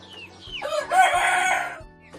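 A purebred laying hen crows once, loud and close, a drawn-out call rising and holding before trailing off, with no talk over it.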